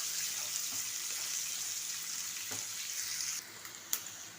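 Onions sizzle steadily in a pan with curry leaves, a soft continuous hiss that drops slightly in level near the end, with a faint tap or clink.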